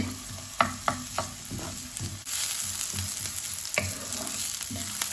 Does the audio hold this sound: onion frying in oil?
yes